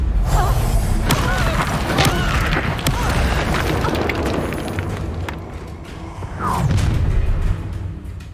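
Heavy booming blasts and crackling bursts from an Incendio fire spell in Hogwarts Legacy combat, a loud rumbling impact early, then fading before another surge near the end.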